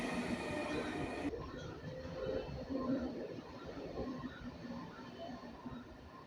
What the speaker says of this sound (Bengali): কথা বলতে বলতে একটা ট্রেন চলে এলো, আরেকটা ট্রেন।